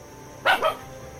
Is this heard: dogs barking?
yes